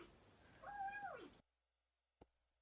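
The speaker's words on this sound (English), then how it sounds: "And the cat noises too." A cat meows once, clear and fairly close, with a rising then falling tone, then cuts off into silence before a brief faint click.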